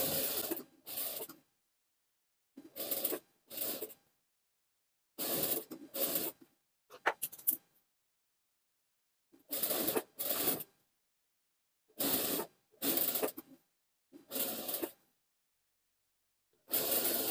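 A sewing machine runs in short stitching bursts of roughly a second each while a collar band is sewn, with silent pauses between runs, close and fairly loud.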